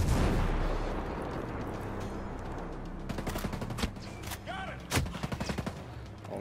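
Enemy shotgun blasts in the tactical shooter Ghost Recon Breakpoint crack out as several sharp, loud reports amid rumbling combat noise, with a cluster of quicker shots near the end.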